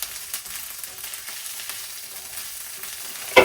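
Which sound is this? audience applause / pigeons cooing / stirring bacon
stirring bacon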